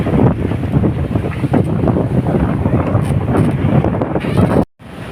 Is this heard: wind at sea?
yes